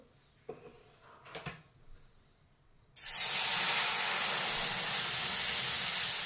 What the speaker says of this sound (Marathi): आता आपण त्याच कढईमध्ये पाणी गरम करायला ठेवणार आहोत